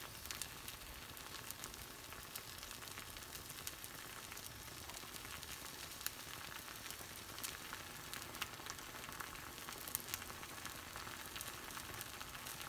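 Omelet frying in a pan with cheese about to be added, a steady close sizzle and crackle that holds evenly throughout with no one talking.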